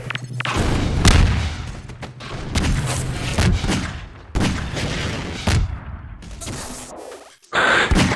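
Rocket launcher blasts in a Half-Life 2 Deathmatch match arrive as several loud, heavy booms in irregular bursts, each with a rumbling tail, broken by short pauses before a final sharp blast.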